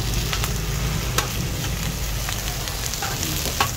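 Bell peppers grilling, a steady close sizzle with occasional sharp pops and crackles, continuous and moderately loud with no talking.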